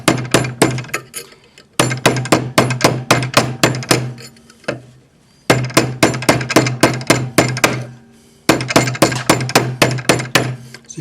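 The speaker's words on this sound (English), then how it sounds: "I'm turning the ring to make sure that I'm hammering in the middle" Metal ring struck repeatedly with a hammer on a sinusoidal stake, loud close ringing blows in fast even runs of about ten, with short pauses between bursts as the ring is turned.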